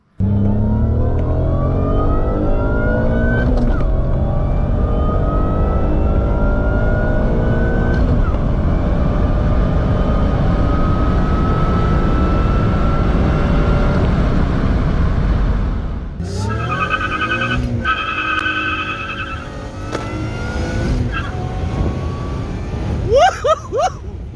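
A supercharged car accelerates hard, its engine loud and close with a long rising whine through one sustained pull before easing off, followed by quieter, choppier revving and gear changes.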